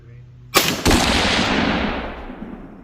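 A 10mm revolver with a 4.2-inch barrel fires a single 155 grain Underwood round: one loud, sharp report close by, followed by a long echoing decay with no talking.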